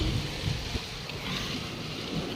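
Strong stormy wind during a storm with rain, a steady loud broadband rush buffeting the microphone throughout with low rumbling gusts and no speech.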